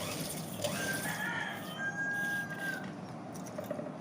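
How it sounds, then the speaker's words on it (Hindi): A rooster crows at moderate distance, a drawn-out call over steady background noise, with no talking. "मेरे साथ साथ ना इस मुर्गे को बोलना बहुत ज़रूरी है"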